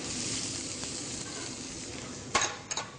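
Onions frying in hot olive oil in a non-stick pan, a steady close sizzle with a brief clatter of stirring near the end.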